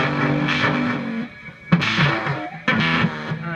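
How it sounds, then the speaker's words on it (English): Big Drip custom boutique guitar pedal pushing an electric guitar into heavy, out-of-control distortion, loud bursts of fuzzy chords with howling feedback swelling between strums. "let me go ahead and show you the distortion really quick. You can hear that feedback coming."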